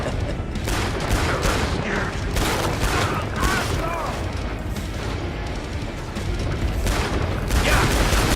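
Rapid AA-12 shotgun fire and booming artillery explosions in Killing Floor 2, a dense, continuous barrage of loud blasts with chaotic combat noise throughout.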